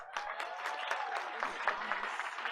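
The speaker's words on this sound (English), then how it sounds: "let's give him a big round of applause" Steady applause from an audience at a Board of Education meeting, a dense wash of clapping that holds evenly for a couple of seconds.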